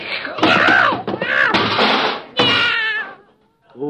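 A cat meows and yowls loudly in long, wavering, drawn-out cries close by, in a vintage radio comedy scene, with a brief pause before a final short sound.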